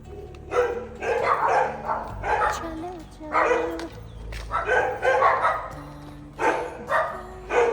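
A dog barks in repeated bursts outside a house, over a low steady hum, while people talk through most of the stretch.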